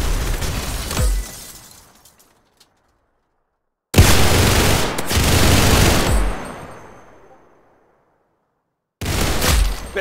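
Bursts of rapid gunfire in the Roblox game Arsenal, loud crackling volleys with glassy shattering textures, broken by abrupt silent gaps and resuming in separate bursts.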